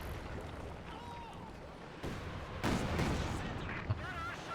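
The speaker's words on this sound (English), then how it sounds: "What a good barrage here" Artillery barrage in a strategy video game: a dense bed of rumbling blasts and crackle swells into a heavier cluster of booms midway, then continues steadily with a sharp thud near the end.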